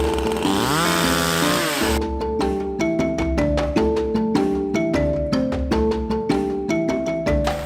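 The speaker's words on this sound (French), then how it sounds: "On l'a coupé avec une tronçonneuse." A chainsaw revs loudly, its engine pitch climbing, then settles into steady cutting with rhythmic pulsing as it bites through firewood.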